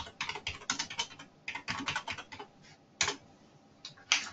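A search being typed on a computer keyboard, with quick clusters of close, crisp key clicks broken by short pauses and a few single harder taps.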